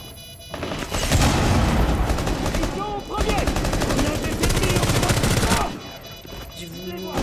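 Gunfire in the video game Rainbow Six, loud and continuous, with automatic weapon bursts and booming impacts running for several seconds and a brief lull in the middle, with no speech.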